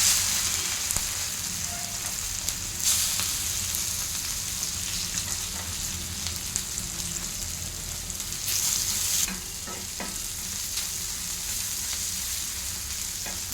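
Fried okra sizzles and crackles steadily in hot oil with cumin, mustard seeds and turmeric, a close, even frying hiss with brief louder bursts as the pan is stirred.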